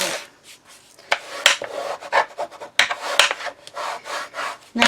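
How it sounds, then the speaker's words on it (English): Folded paper file folder being burnished flat for a keepsake book, a series of quick rubbing and scraping strokes in irregular bursts, close and fairly loud with no talk. "I'm just going to burnish this down a bit more."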